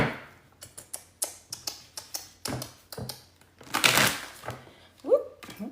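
Playing cards are shuffled up close in a series of quick riffles and flutters, crisp bursts repeating at an even rhythm and building to a louder final riffle.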